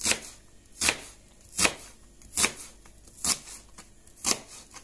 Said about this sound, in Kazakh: Енді қазір пиязымызды турап,